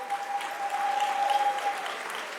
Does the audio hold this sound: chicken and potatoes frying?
no